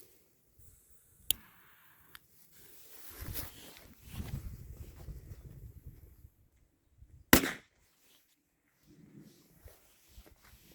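A single sharp bang from an RC3 firecracker by Piromax rings out, preceded by a small pop, crackling and rustling, then quiet.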